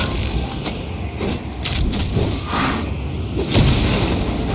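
Cannon fire in the video game Genshin Impact during a Natlan tournament battle, heavy booms rolling over dense battle noise and music, loud and continuous.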